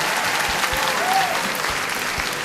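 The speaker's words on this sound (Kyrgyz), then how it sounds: "Достор, кол чабуулар менен жеңүүчү Алтын Уя командасын куттуктайбыз." Sustained, dense applause from an indoor crowd congratulating the winning Altyn Uya team, a steady wash of clapping that holds evenly from start to finish.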